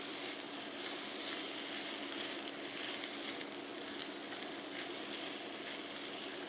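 Precooked bacon sizzles in a pan of breakfast hash made from Thanksgiving leftovers, an even, continuous crackling hiss at moderate volume with no voices.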